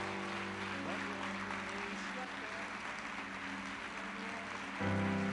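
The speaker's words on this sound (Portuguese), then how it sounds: "Você pode colocar de pé um minutinho e aplaudir o Senhor por alguns segundos." Congregation in a church standing and applauding, a steady wash of many hands clapping over sustained organ or keyboard chords, with the music swelling near the end.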